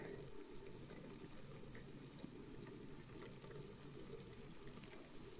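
A pot of paksiw na isda, fish in vinegar, simmering on the stove gives a low, steady bubbling hiss with faint pops, close by and continuous, with no talking.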